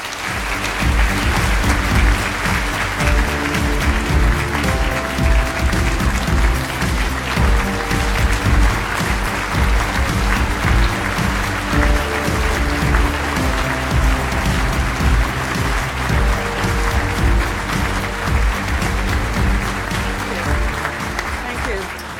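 Audience at a Public Policy Forum award ceremony applauding to welcome award recipient Margaret MacMillan, a loud, sustained, steady clapping from a large crowd that lasts throughout, with some voices mixed in underneath.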